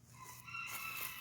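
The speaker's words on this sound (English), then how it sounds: "hopefully you can hear me over the Houdan chickens" Houdan chickens cluck and crow nearby in a yard, one brief rising crow with soft clucking at low volume and no speech.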